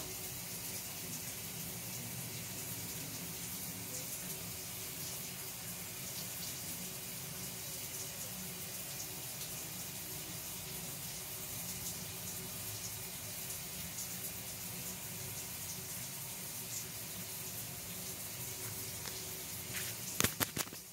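Shower water running in a home bathroom, a steady close hiss of spray that holds even and unbroken for the whole stretch, with a few brief knocks near the end.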